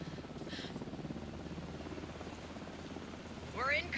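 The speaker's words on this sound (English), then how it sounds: "Is that a helicopter?" A helicopter flies in the video game Alan Wake 2, a low, steady rotor thrum with a droning hum that holds throughout at moderate distance, joined near the end by a brief rising whine.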